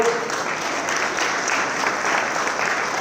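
An audience at a tobacco and cancer awareness event claps in sustained, even applause that holds steady throughout, dense and close with no voices over it.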